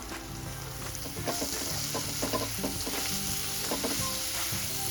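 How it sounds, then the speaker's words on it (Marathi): Kolhapuri golma, a spicy Maharashtrian dried-fish dish, sizzles and fries steadily in a pan, with repeated scraping stir strokes rising over the constant crackle. No voices are heard. "आता मस्त असं आपण त्याला परतून घ्यायचंय."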